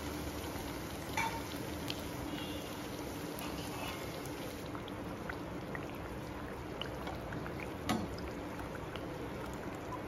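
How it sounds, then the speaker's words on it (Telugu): Pieces of bread fry in oil in a pan for bread halwa, giving a steady, close, fizzing sizzle with a few faint clicks and pops throughout. "మిగిలిన బ్రెడ్ ముక్కల్ని అన్నిటిని కూడా ఇదే విధంగా ఆయిల్ లో వేసుకొని ఫ్రై చేసుకోవాలండి"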